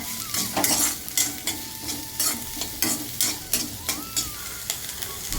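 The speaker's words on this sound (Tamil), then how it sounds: "ஒரு நாலு பச்சை மிளகாய் கொஞ்சம் சின்ன வெங்காயம் வாசனைக்கு நல்லா வதக்கிப்போம்" Green chillies and small shallots sizzle while being sautéed in a pan for Madurai-style thanni chutney, with steady frying hiss broken by repeated stirring scrapes and clatters, close and fairly loud throughout.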